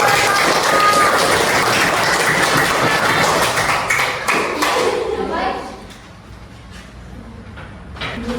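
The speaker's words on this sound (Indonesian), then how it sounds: "Iya, tepuk tangan." Classroom applause from a group of students, a dense burst of clapping that carries on for about five seconds and then fades into quieter room noise and faint talk.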